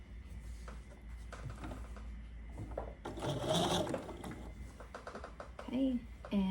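Sewing machine stitching a quilt, short bursts of rapid mechanical whirring between pauses, with a person talking over it in a quiet room.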